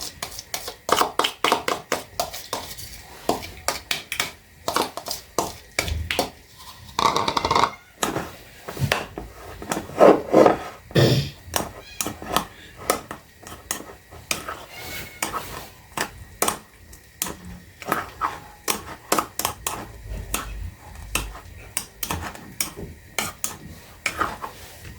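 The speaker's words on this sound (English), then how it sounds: "Meanwhile, I'll be mixing up the kachumbari" Tomatoes and onions for kachumbari salad are mixed in a bowl, with a long run of close, irregular clinks, taps and scrapes of a spoon against the bowl, some louder knocks among them.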